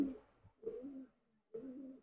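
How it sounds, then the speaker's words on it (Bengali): Pakistani Teddy pigeons cooing close by, three low throaty coos spaced roughly half a second to a second apart, each swelling and fading, with quiet gaps between. "অনেকগুলো কবুতর একসাথে ছাড়ার কারণে একটু মারামারি করছে"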